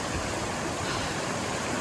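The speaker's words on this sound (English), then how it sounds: "with that water that's going over it, it's moving really fast" Fast water pouring over slick rocks at an Appalachian Trail stream crossing makes a dense, close, unbroken roar of rushing water, loud and even throughout.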